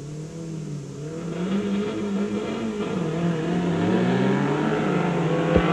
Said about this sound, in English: Paul Ferris takes it away from the jacuzzi bathtub.